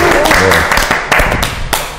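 Welcoming applause for a guest on a Korean talk show about mom cafés and local business, a burst of close, loud clapping from a small group with voices mixed in.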